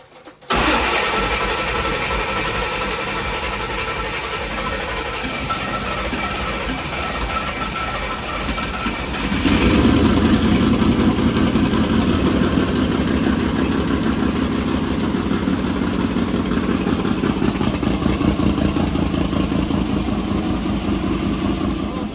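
A car engine fitted with new Gen 3 VS Racing turbo wastegates cranks and catches, then settles into a steady, loud idle that grows fuller partway through and holds without talk.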